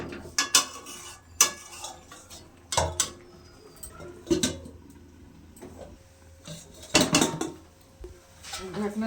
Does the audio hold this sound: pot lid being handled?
yes